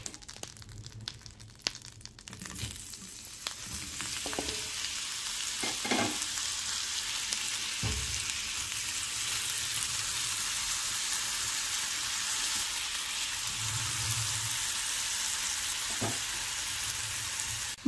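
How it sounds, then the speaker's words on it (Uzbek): Mushrooms frying in butter in a pan: a steady, close hiss and sizzle runs throughout, with occasional soft stirring scrapes and taps. "Hozir mana shu sariyog'da shu qo'ziqorinni qovurib yuboraman"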